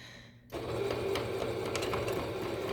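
A sewing machine stitches a kids' fitted fabric mask, running steadily and fairly close after a brief quiet start, with a continuous whirring motor and rapid needle ticking.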